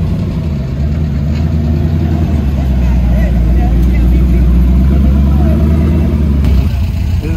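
A Ruby Star Red Porsche 997 GT3 RS idles nearby at a roadside car gathering, with a loud, steady low rumble and some voices around it.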